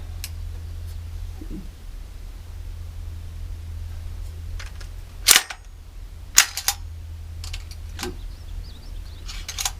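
A WMD Beast AR-15 rifle with nickel boron finish and a muzzle brake fires several sharp, loud shots at irregular intervals outdoors over a steady low hum, each shot a brief crack.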